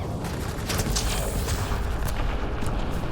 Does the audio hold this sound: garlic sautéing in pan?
no